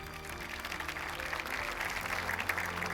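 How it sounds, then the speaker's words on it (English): An audience applauds performers at an evening awards ceremony at the Founders Memorial in Abu Dhabi, a steady wash of clapping heard at moderate distance and fairly quiet throughout. "Please join me in giving them another round of applause"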